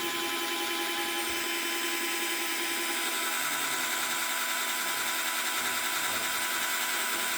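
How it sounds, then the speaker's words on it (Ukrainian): A small cordless screwdriver drilling steadily through 8.5 mm steel, a continuous high whine held for several seconds at close range, with no talking. "Свердить помаленьку, тому що це не шурповерт, а акумуляторна отвертка."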